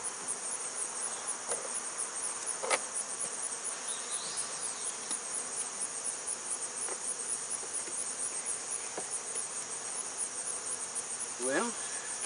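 Honeybees buzz steadily and softly throughout a hive inspection outdoors, a constant insect hum with a few faint clicks and knocks from handling the frames.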